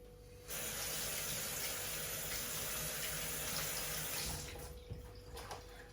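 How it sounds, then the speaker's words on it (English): Kitchen tap running full while hands are washed beneath it, a steady close gush of water that starts abruptly and carries on with slight splashing changes near the end. "I'll wash my hands and start the sauce."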